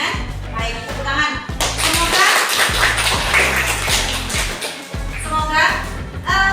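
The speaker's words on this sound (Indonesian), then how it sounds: "Tepuk tangan." A classroom of children claps rhythmically together in a steady patterned beat, loud and close, with the children's voices chanting along over it.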